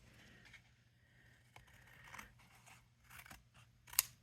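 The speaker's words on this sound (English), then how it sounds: "so let's just trim it away" Scissors trim card stock for a handmade card, a few soft, close snips and light scraping in a quiet room, ending with one sharper cut.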